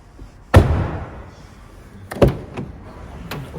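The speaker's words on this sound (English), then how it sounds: "Open the door from this side" Door of an MG5 Scorpio car in a China showroom: a sharp thud of the door unlatching and swinging open, followed about two seconds later by a second clunk and a few lighter taps, no talk.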